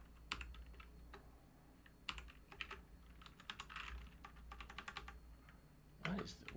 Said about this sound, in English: And if I try to type in a timestamp